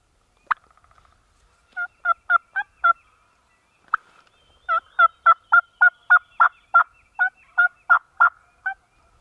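A wild Kentucky longbeard turkey gobbles repeatedly outdoors at sunrise, sharp rattling bursts in quick series, with a few spaced single calls and then a long run of gobbles, fairly near and clear against a quiet background.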